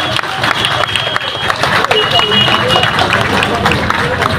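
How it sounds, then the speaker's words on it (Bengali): An audience applauds at a Kishore Kumar birthday event, a dense, steady wash of clapping and crowd noise throughout, fairly loud and close, with some voices mixed in. "একবার উঠে জোরে করতালি ওদের জন্য"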